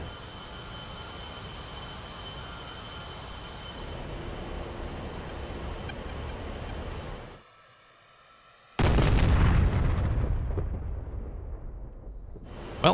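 Four GBU-12 bombs strike in a combat flight video game: after a steady engine drone and a brief hush, a sudden heavy explosion erupts loud and close, then rumbles and decays over several seconds.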